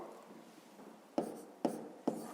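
A pen scratches on paper while a math exercise is written out, three quick firm strokes after a faint stretch, close and without speech.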